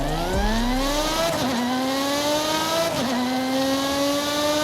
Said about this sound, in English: The engine note is so much better. I love the crackles and you can actually hear the supercharger